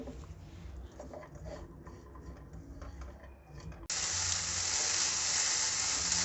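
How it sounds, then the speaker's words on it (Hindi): Chicken, onion and green chili fry over high heat in a pan, giving a soft sizzle that suddenly jumps to a loud, steady hiss as more goes in. No voices are heard. "इसमें प्याज और सब्ज़ मिर्ची डालेंगे और तेज़ आंच पर पकाएंगे कि प्याज हल्का सा सॉफ्ट हो जाए"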